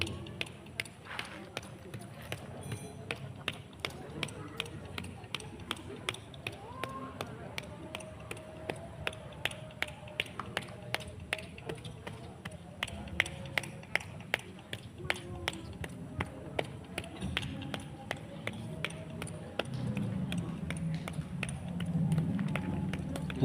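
Rhythmic percussive massage strokes, palms tapping and patting on the body during a wet massage training session, a steady series of soft sharp slaps that speeds up, with speech running over them.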